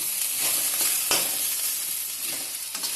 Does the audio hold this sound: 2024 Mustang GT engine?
no